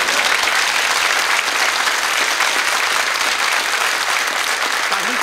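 Audience at a Czech TV show applauds steadily in a dense, continuous wash of clapping, loud and close, lasting several seconds without a break.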